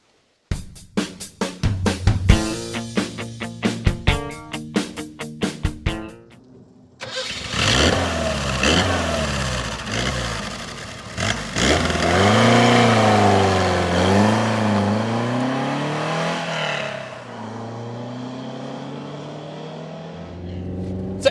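A Lotus Europa mid-engine sports car cranks over in short rhythmic bursts, then fires up and pulls away with a loud, sustained engine note that rises and falls through the gears, easing off toward the end.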